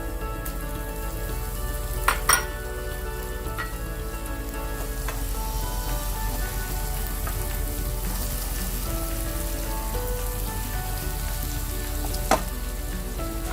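Tomato added to a hot pan for a tilapia and green mango curry fries with a dense, steady sizzle, loud and close, with a few sharp clicks of utensils against the pan.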